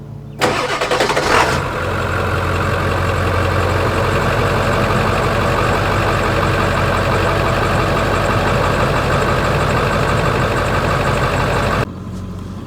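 A 7.3 diesel truck engine cranks briefly and catches, then settles into a steady, loud, close idle that runs unchanged for about ten seconds before cutting off near the end.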